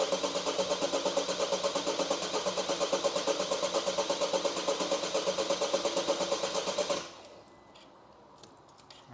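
A 2020 Vauxhall Combo diesel engine cranks steadily with a fast, even rhythmic churn for about seven seconds without firing, then the starter cuts off, leaving faint background noise.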